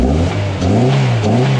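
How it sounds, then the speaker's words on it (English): A Honda B20 VTEC engine with rod knock, revving loud and close, its tone climbing and wavering through a short burst of throttle. "But it sounds like a knock"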